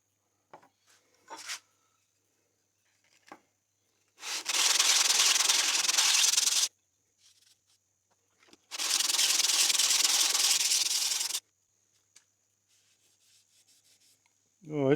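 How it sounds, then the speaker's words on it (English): A Stanley No.3 metal hand plane rubbed against coarse grit paper to bring it back to bare metal, two long bursts of loud, close scraping grind separated by quiet handling noises. "I'll give it a bit of a rub with this grit for a while, get it back to good bare metal on that side"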